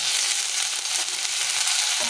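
Ginger dropped into hot oil with cumin sets off a steady, close sizzle of fierce frying that holds evenly for about two seconds, with no voices.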